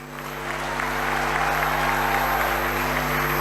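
A crowd at an auto expo in Indore claps during a speech, the applause swelling in and then holding as a thick, steady patter over a low electrical hum.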